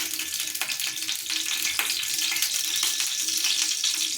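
Mustard oil heats on a hot griddle over a gas flame, producing a dense, steady hiss of sizzling with small crackles running through it, close and fairly loud.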